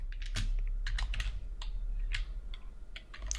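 Fingers typing a git command on a computer keyboard, a quick uneven string of close clicking keystrokes over a low steady hum, with no voice.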